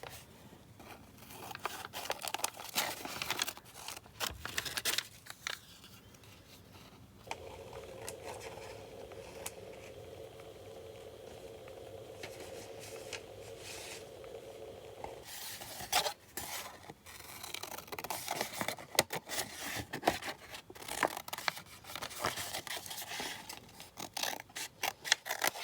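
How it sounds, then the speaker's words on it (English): Scissors cutting squares out of paper for a mixed media craft piece, giving repeated close snips and rustling paper handling with a steadier, quieter stretch midway. "I'm just eyeballing this as I cut out some squares."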